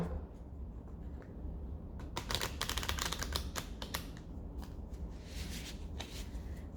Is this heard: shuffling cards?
yes